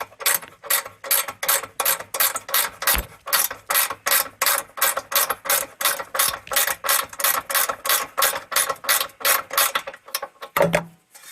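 Ratcheting wrench clicking steadily while backing out four bolts on a Toro Power Clear snowblower during a starter rope replacement, a fast, even train of close metallic clicks lasting several seconds with a brief thump near the end.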